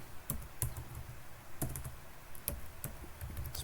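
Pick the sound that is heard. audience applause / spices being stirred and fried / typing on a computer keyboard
typing on a computer keyboard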